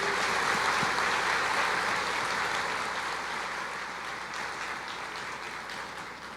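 A church congregation applauds in dense, steady clapping that fills the space and fades gradually, with no talking over it.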